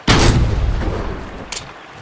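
A single loud, close rifle gunshot in the hunting video game Deer Hunter 2014 cracks at the start and booms into a rolling echo, followed by a faint mechanical click.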